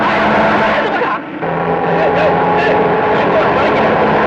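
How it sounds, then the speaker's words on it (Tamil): A heavy engine roars loudly and steadily nearby, briefly dipping before surging again as a large vehicle approaches. "லாரி வருது."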